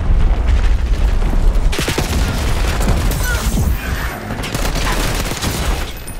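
An Archangel strike firing in Call of Duty: Black Ops 6 brings a barrage of heavy booms and rapid gunfire, with a sharp, loud onset and a thick rumbling bed, game voices faintly mixed in.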